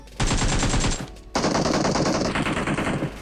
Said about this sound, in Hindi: मैं फायर करता हूँ, मेरी फट गई क्योंकि वो दो बंदे मुझ पर रश करने वाले थे।